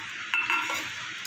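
Gram-flour batter for kulekhara leaf fritters being mixed in a bowl, heard as a couple of close, sharp scraping clinks of a utensil against the bowl over a quiet background, with no one talking.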